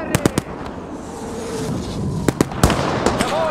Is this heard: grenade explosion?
yes